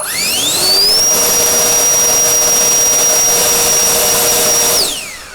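A cheap Chinese turbo blower fan spins up and holds at its second speed, a loud, steady high-pitched whine with a rushing airflow underneath, then winds down at the end. No one speaks.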